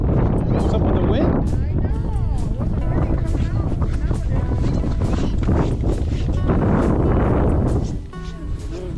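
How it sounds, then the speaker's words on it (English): Strong wind buffets the microphone outdoors on the ice during an ice fishing trip with kids, a loud continuous roar with gusts, while voices talk underneath. "What's up with the wind?"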